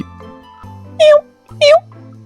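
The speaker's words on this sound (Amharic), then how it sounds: "ከዚያም ግድግዳው ላይ ተቀምጣ ወደ ነበረችው ሚኑ ወደ ተባለች እጅግ በጣም ሰነፍ ድመት ሄደ።" Two clear meows from a nearby cat, evenly spaced, over a low, steady background hum.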